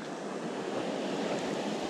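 A French trout river of great beauty rushes in a steady, close, continuous flow, a full hiss of moving water with no voices.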